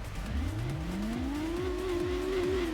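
A race car engine revs and climbs steadily in pitch, with repeated shifting swoops, a continuous synthetic-sounding drone from Gran Turismo 2, the car a Toms based on a Lexus.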